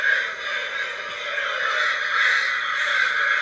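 Several crows caw harshly in overlapping calls in a VR video game, a continuous raspy chorus at moderate volume with no talking.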